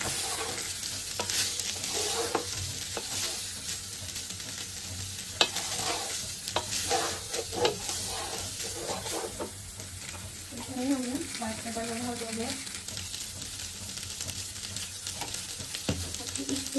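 Lentils frying in a pan for khichuri give a soft, continuous sizzle with repeated stirring scrapes and clinks, quiet and close, with faint voices murmuring in the background.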